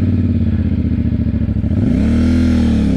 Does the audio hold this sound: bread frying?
no